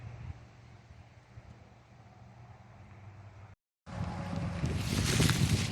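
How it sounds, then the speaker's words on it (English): Wind buffeting a microphone outdoors on open flat land, a steady low rumble that cuts out briefly, then returns stronger and gustier. "It's kind of windy today."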